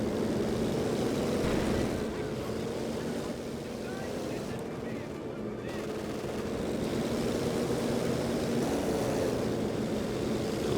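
Military aircraft pass over a battlefield in the strategy game Company of Heroes 2: a continuous broad roaring rush that swells and fades, dipping briefly in the middle before rising again.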